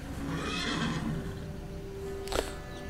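Horse whinnying in a Sherlock Holmes The Awakened game scene: a single clear neigh near the end over low background ambience, no talking.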